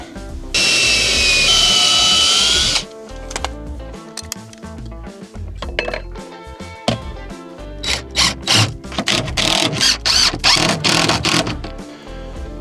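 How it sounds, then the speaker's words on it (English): Screws driven into wood with a power drill during repairs on an old truck camper: a long, loud whine of the drill, then a run of close, choppy bursts of drilling and clattering knocks. "Now let's put a couple screws in it"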